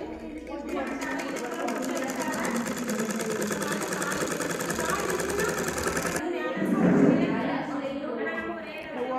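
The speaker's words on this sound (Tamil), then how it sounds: "இது இப்போ கைப்பிடிக்கி தச்சு எடுத்துக்கிட்டு இருக்கா" A sewing machine stitches the handle onto a homemade strawberry-shaped fabric shopping bag, running in a steady, fast mechanical chatter for most of the stretch, then stopping abruptly as a voice speaks.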